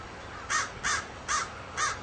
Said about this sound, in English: I think even the crows want in on this.